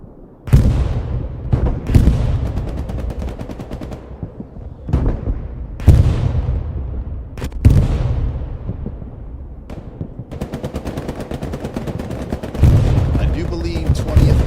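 Artillery explosions and gunfire from a World War II-style multiplayer video game battle: heavy booming blasts land every second or two with long decaying rumbles, while sharp rifle and machine-gun shots crackle between them.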